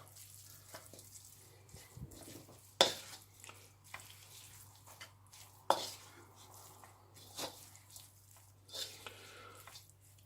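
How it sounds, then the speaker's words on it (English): A spoon stirs a chilli mixture with fried onions in a pan, making scattered scraping and clinking against the metal with a few sharper knocks over a low background hum. "Okay, give that a good mix."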